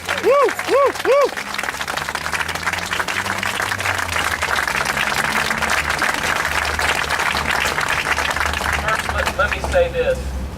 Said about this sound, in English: Can we just give a loud a round of applause to appreciate what these families are going through and to thank them for being here today?